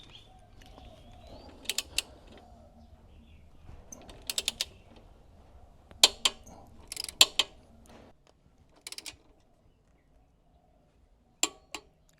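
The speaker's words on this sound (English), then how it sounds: "Now I need to set my torque wrench to" A torque wrench on a Royal Enfield 650 belt-drive job is being set to 45 newton meters, sparse sharp clicks in small clusters over a quiet background, ending in near silence.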